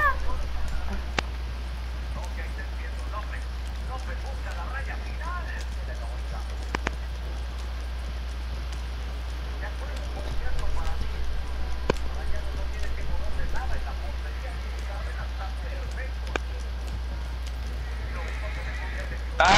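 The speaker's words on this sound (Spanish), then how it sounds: "Y se frenan los caballos" Horses in the Red Dead Redemption 2 game run and slow down, hooves and occasional whinnies blending with steady game ambience and a low rumble, while someone talks excitedly over it throughout.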